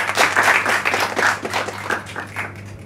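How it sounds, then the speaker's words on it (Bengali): An audience claps for the teams at a parliamentary-style debate competition held in a café, a moderately loud burst of applause from a small crowd that tapers off over a few seconds. "প্রত্যেকের জন্য একটি জোরে করতালি আশা করছি"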